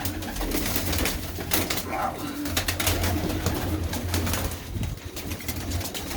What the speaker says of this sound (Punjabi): ਇੱਕ ਇੱਕ ਆ ਬੈਠਾ ਕਬੂਤਰ